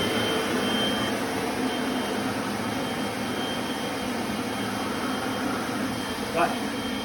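Hand dryer at a testing site blowing a steady, loud, broadband rush of air that continues unbroken throughout.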